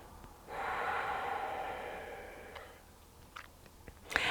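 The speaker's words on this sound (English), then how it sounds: "paying attention to the breath for a few nice full deep breaths through the nose" A slow, full, deep breath drawn in through the nose, close and steady for about two seconds in a quiet room, followed by faint small movement sounds.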